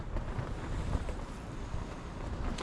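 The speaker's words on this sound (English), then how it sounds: "Wind's picking up." Gusty wind blows steadily across an exposed shoreline during a sea-fishing session near high tide, a continuous rough rumble buffeting the microphone with no talk.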